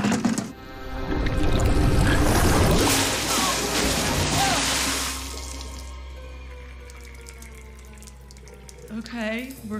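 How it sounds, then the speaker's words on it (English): Water rushes and gurgles through plumbing into a sink, loud and turbulent at first and then settling into a lower, steadier flow, with indoor room tone and brief voices near the end. "Do you hear something? It's just a little gurgle, that's all."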